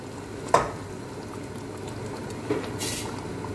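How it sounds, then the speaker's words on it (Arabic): Boiling water poured over two fried chicken halves in a cooking pot: a soft, steady wash of bubbling hiss, broken by a sharp clink early on and a fainter knock later. "هذين دجاجتين وهسه راح لهم من الماء هاي او مي يغطيهم مي مغلي"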